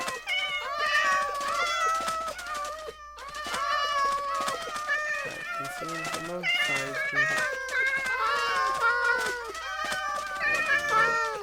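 A cream-colored cat in a video game lets out a rapid run of high, cute, tonal meows, one after another and up close. A person talks over the cries.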